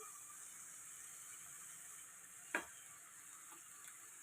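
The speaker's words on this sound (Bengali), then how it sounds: "এই দেখো মশলাটা এই মটনের সাথে একসাথেই কষবো" Mutton sizzling and being stirred together with spices in a pan, a quiet steady frying hiss with a single sharp click partway through and a faint tap near the end, no talking.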